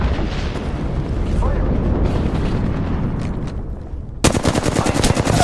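Video game gunfire: a loud, close, rumbling barrage of shots and blasts, then sharp rapid automatic bursts near the end.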